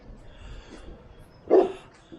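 A single short dog bark, fairly close, stands out against quiet background noise on a coastal walking path between Liverpool and Southport.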